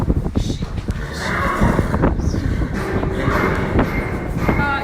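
A Thoroughbred mare at Claiborne Farm neighs and whinnies in a stable setting, with hoof shuffling and clip-clop around her, while people talk quietly in the background.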